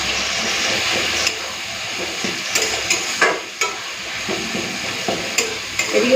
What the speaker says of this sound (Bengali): এই কুন্দ্রিয়া আর চিংড়ি বাটাটাকে ভালো করে ভেজে নেব